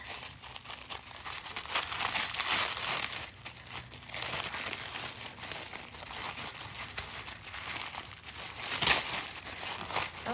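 Gift packaging being ripped open and crinkled by hand, a close, continuous rustle and crackle of paper and plastic with a few louder tearing bursts.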